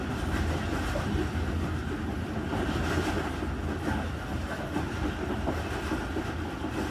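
The Tezgaam Express passenger train rolls past, a dense continuous rumble of wheels and carriages with rhythmic clickety-clack over the rails, steady and fairly close throughout, with no talking.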